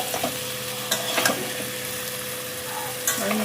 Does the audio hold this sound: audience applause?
no